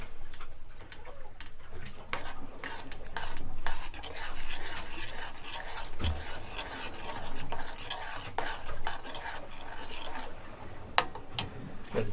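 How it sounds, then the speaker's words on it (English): Food being stirred in a pot aboard a boat, a continuous rough scraping and rubbing with uneven strokes and a few sharp ticks, close and moderately loud, with no talk. "Give it a big stir."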